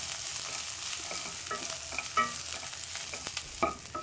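Chopped capsicum frying in a pan for a mixed vegetable curry, with a continuous hiss of hot oil and irregular stirring and scraping strokes, close and loud, with no voices.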